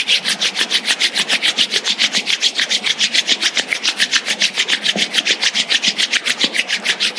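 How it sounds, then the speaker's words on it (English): Two palms rub briskly together in a fast, steady back-and-forth rhythm, a close dry swishing repeated evenly throughout. "let's generate some energy between our hands by rubbing our palms against each other"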